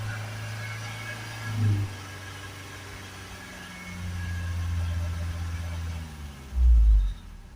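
A Fiat Talento 2.0 dCi van engine idles with a low, steady rumble, swelling a little in a couple of brief bursts near the end.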